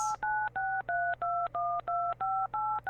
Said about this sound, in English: Chris is pressing buttons into his phone